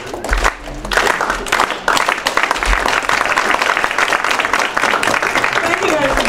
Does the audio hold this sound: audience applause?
yes